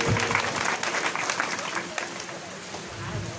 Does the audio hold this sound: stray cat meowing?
no